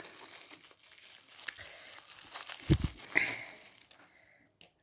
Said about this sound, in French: Alors on va déballer ça tout de suite.